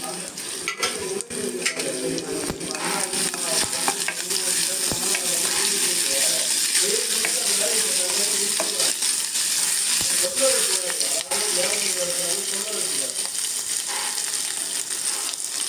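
Onion and capsicum sauté in a hot pan while being stirred, a steady sizzle and frying hiss with scraping stir strokes and an occasional clink of utensil on pan, loud and continuous for the whole stretch.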